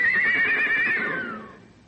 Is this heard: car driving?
no